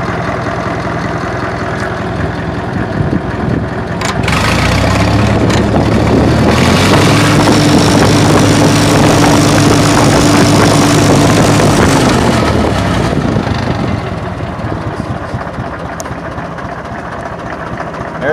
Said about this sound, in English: She idles very well. She's idling right at about